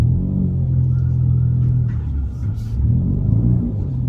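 2016 Ford Mustang with a 2.3L EcoBoost engine and DRIFT aftermarket exhaust, giving a steady, loud, deep exhaust rumble from inside the car as it drives and turns, with slight swells in engine note.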